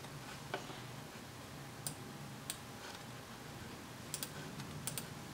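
Faint, sparse keystrokes on a computer keyboard tap out short irregular clicks, a few in quick pairs, against a quiet room hum.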